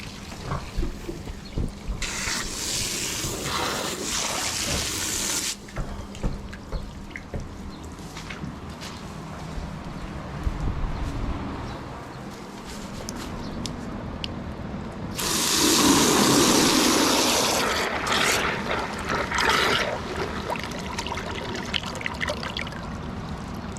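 Water is dumped out of a full container in a barn, pouring and splashing in two loud bursts, with trickling and dribbling between them and some handling noise nearby.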